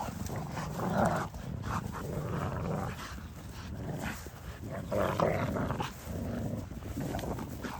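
Dogs, including a Cane Corso, growl and snarl while tugging on a toy, with close, continuous rough rumbling that swells in bursts throughout.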